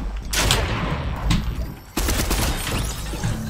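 Gunshots in Fortnite, a chaotic burst of loud firing that pauses briefly before a fresh volley, with several sharp shots inside the noisy in-game clamor.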